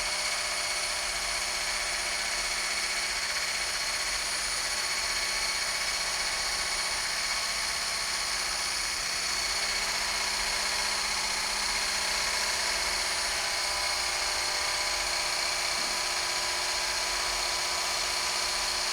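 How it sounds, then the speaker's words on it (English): An electric whisk whipping coffee runs as a continuous steady high-pitched motor whine with a buzzing hum, loud and unbroken for the whole stretch with no talk. "I don't know if you can see that, but we are whisking."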